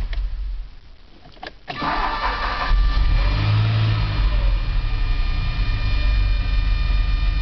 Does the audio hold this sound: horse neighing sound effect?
no